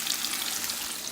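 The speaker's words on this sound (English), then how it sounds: "So while my chicken is frying" Chicken pieces frying in hot oil in a pan for buffalo chicken tacos, giving a steady, dense crackling sizzle throughout, close and fairly loud with no talking.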